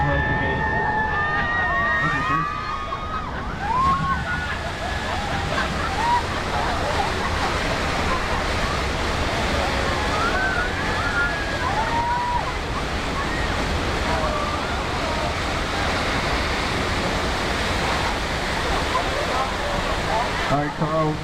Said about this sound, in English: The water main just broke again.